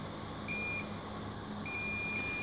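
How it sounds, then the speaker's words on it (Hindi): A multimeter gives two high continuity beeps while an Android phone board is checked for a short after a damaged capacitor was removed. The tones are faint and come in two separate bursts over low background hiss. "देख सकते हो इधर भी बीप आ रही है और इधर भी बीप देखने को मिल रहा है"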